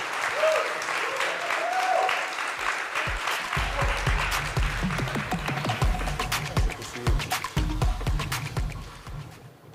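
A conference audience at a fintech summit in Bali applauds the CEO of Binance, CZ, with sustained dense clapping that holds steady for the whole stretch, loud and close, with a few voices mixed in underneath.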